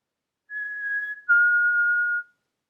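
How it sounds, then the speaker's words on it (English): Clear two-note whistled call of a black-capped chickadee, a higher pure tone followed by a slightly lower sustained one, alone against silence. "It was the black-capped chickadee."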